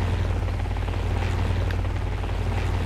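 A helicopter in the Minecraft video game gives a steady, loud rotor drone, with no talking.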